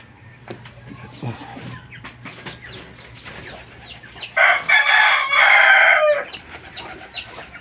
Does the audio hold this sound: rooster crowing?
yes